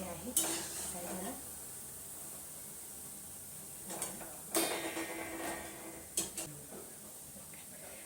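Fried cabbage pakoras are lifted out onto a plate with a few scattered metal clinks and scrapes of utensil on dish, faint and close over quiet room tone.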